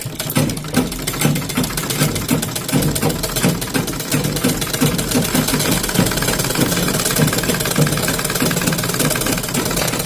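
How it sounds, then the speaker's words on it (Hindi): A sewing machine stitches a baby top, running in a steady, close, continuous mechanical whir with a rapid needle rhythm that holds for the whole stretch, with no talking. "यहाँ पे सिलाई लगा देंगे।"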